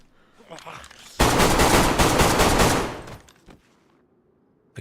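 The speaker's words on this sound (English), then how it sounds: "I'm just gonna have to shoot him." Rapid automatic gunfire in the video game DayZ, fired at a zombie on Deer Isle, a loud, dense burst of shots lasting about two seconds, then a few scattered pops before it falls quiet.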